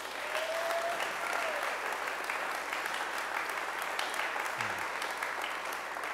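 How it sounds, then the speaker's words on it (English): A live event audience gives an extended round of applause, a thick, uniform roar of many hands clapping at steady volume from start to finish, with little else audible. "Give him another round of applause."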